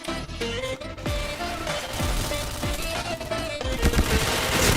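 Rapid gunfire from the first-person shooter Point Blank, with dense bursts of shots and sharp transients running continuously at steady, close loudness.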